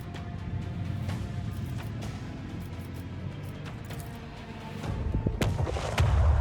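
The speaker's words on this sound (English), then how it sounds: "Engage the macro cannons! Set course!" Macro cannons fire in the Warhammer 40k: Rogue Trader video game, giving a dense barrage of booming blasts over a constant rumbling roar that grows heavier toward the end.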